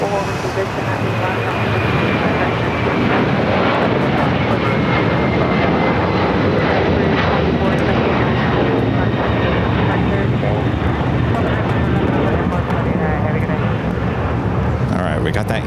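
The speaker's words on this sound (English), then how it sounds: "Latam, a 767-300ER now rolling down 25 right." A LATAM Boeing 767-300ER rolls down runway 25 right at LAX for takeoff, a broad sustained engine roar with a faint whine running throughout, with a voice talking over it.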